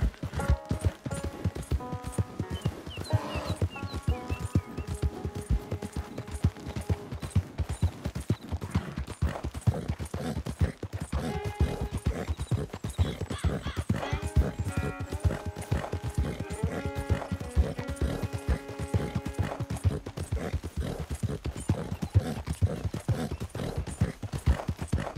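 Rapid rhythmic clip-clop of horse hooves at a gallop in Red Dead Redemption 2, steady and close, with a horse whinnying and occasional game sound effects layered over it.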